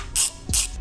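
A ratchet clicks twice in short bursts while tightening the clutch pressure plate bolts evenly on a Mk1 VW Caddy engine, the two close, distinct ratcheting sweeps alone with no talk.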